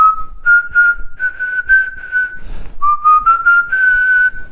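A person whistles a wavering tune alone, a clear sustained tone sliding gently up and down in pitch, broken into short phrases with a brief pause midway.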